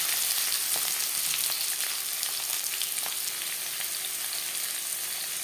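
Chopped onion hits hot refined oil, a loud, dense sizzle and crackle that holds steady and close throughout, with no voices.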